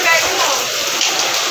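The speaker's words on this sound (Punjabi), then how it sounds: "ਬਾਰਿਸ਼ ਬਹੁਤ ਤੇਜ਼ ਹੈ ਬਾਈ, ਬਹੁਤ ਤੇਜ਼ ਬਾਰਿਸ਼ ਹੈ" Heavy rain from a violent storm pours down in a steady, loud, unbroken hiss that fills the whole moment, with a voice speaking over the downpour.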